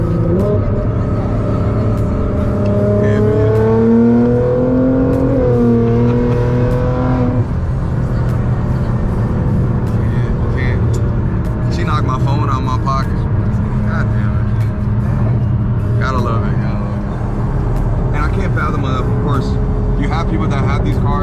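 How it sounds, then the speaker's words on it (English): A 2013 Nissan GT-R R35's exhaust rumbles loudly, its pitch climbing and falling in a rev early on, then settling into a steady, throaty drone. "then the exhaust, you can't beat the way these cars sound."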